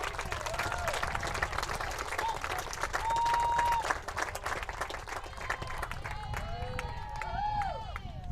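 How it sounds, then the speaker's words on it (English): A crowd in a gym applauds an all-region honorable mention girls' softball team at a tournament, clapping and cheering with chatter mixed in and a brief whistle-like tone partway through. "Let's give them a round of applause"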